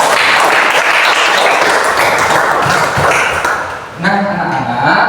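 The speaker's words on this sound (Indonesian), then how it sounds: "Beri tepuk tangan buat kita semua." A classroom of Indonesian school pupils claps together in a sustained, broadband burst of applause lasting several seconds, loud and close, with a brief dip near the end before the clapping swells again.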